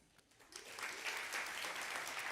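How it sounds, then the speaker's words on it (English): An audience at a behavioural science conference breaks into applause, the clapping starting thin and quickly swelling into a full, sustained round that stays loud to the end. "So I'd love a round of applause, first off, if you think hygiene wipes"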